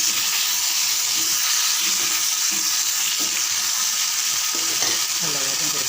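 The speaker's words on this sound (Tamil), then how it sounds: "இன்னும் கொஞ்சம் நல்லா வதங்கட்டும்." Potato pieces sautéing in a pan with salt for a side-dish fry, a steady loud sizzling hiss with faint stirring scrapes throughout and no talk.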